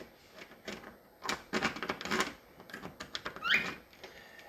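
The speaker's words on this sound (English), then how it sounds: "So I mark the inside of the ring" Pencil or marker scratching around the inside of a ring held against a drywall wall, making a run of short, dry scraping strokes at close range, with a brief squeaky stroke near the end.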